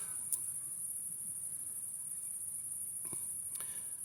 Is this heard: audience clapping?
no